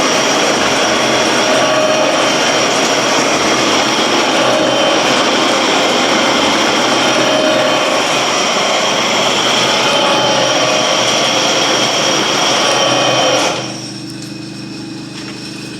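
A metal slotter machines splines into a steel speed-change gear for a steam engine, giving a loud, steady mechanical drone with a continuous cutting roar that cuts off sharply near the end, leaving a quieter hum.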